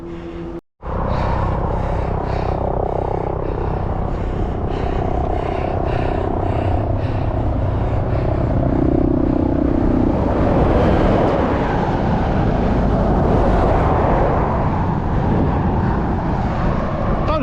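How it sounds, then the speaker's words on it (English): A police helicopter flies overhead, its loud, steady rotor and engine roar continuous and close, with wind buffeting the microphone throughout. "I think that's a police helicopter."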